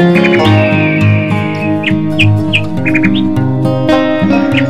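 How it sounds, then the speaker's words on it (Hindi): Bright little bird chirps and tweets pop up repeatedly in a village morning over a steady, loud musical drone, a few calls spaced through the stretch. "चिड़िया की आवाज़ किचड़ बिचुर काफ़ी खूबसूरत लगता है हमारे गांव में"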